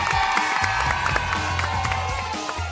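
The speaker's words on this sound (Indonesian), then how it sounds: "Tepuk tangan dong." Studio audience at the ANTV Seru Bersama Sarimi television show applauds and cheers in a dense, steady wash of clapping and crowd noise, with low background sound underneath throughout.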